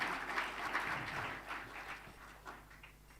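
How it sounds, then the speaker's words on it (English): A round of applause from guests at a magistrates' and judges' association anniversary event, a diffuse, fairly soft wash of clapping that slowly tapers off. "I think that deserves another round of applause."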